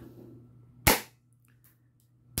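A K35DA spring-type 1911 airsoft pistol fires a single sharp, loud crack that quickly decays over a low steady hum, with a second shot just beginning at the end.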